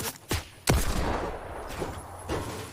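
Gunfire crackles in an esports shooter video game, with a few sharp individual shots followed by a denser burst of fire that holds at moderate loudness and flares again near the end, with no talk over it.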